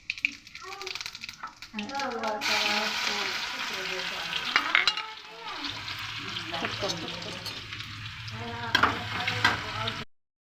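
Mustard seeds and cumin sizzle and crackle in hot oil in a home kitchen, a steady bright frying hiss with small pops running for several seconds under intermittent talking.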